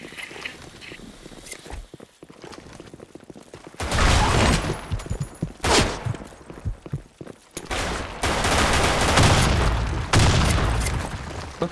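Bursts of rapid gunfire with booms and explosions, loud and close, alternating with quieter stretches of footsteps and ambient noise.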